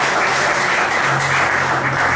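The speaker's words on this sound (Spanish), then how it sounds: "Denle un aplauso." A church congregation applauds during a sermon, dense sustained clapping that fills the room at an even, loud level throughout, with no speech over it.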